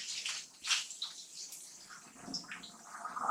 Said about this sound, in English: We'll pour it in our strainer.